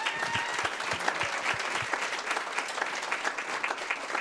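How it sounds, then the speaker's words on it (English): Applause at a city council meeting, a full room clapping continuously for several seconds, dense and even with some nearer claps. "let's give them one more round of applause for a great year"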